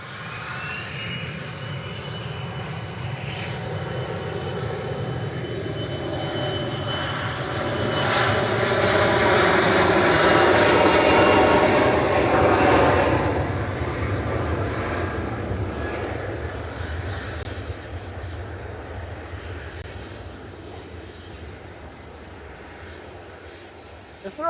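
A Loganair Embraer ERJ 145 departs Manchester Airport for Inverness, its jet roar swelling loud near the middle and then holding as a steady rumble.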